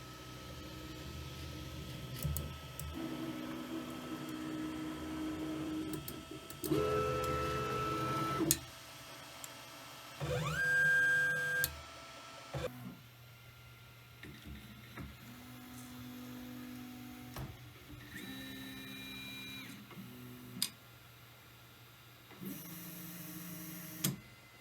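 A Kywoo Tycoon MAX 3D printer at work: stepper motors whine and buzz in changing tones, with short bursts, pauses and ticks, heard close and fairly quiet.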